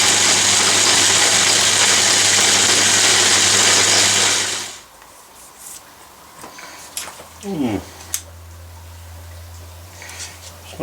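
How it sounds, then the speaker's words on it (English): A workshop metal lathe spins up loudly with whirring, rattling change gears for about five seconds, then cuts off, leaving quiet shop noises and a few faint clanks. "I might spin the lathe up, might be a bit noisy on the change gears"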